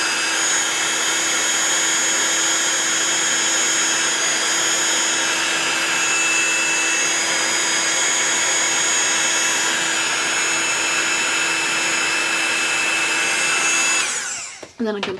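An embossing heat tool blasts a steady, loud, high-pitched whine with an even airy roar as it heats embossing powder for a second time, running alone for about fourteen seconds before cutting off abruptly near the end.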